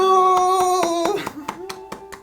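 A sustained tone first carries a few soft claps, then about half a dozen sharp, separate hand claps ring out alone at close range after a correct answer on a campus quiz show.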